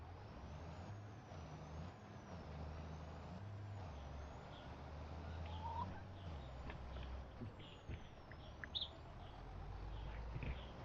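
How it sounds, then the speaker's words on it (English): Chickens cluck softly and sporadically on the Flat Acres farm in the video game Farming Simulator 25, their faint calls scattered over a steady low machine drone and a few hissing, air-brake-like bursts. "Let's go hang out with the chickens again."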